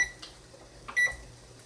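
A kitchen timer gives two short, faint electronic beeps about a second apart while being set, with a quiet kitchen around it.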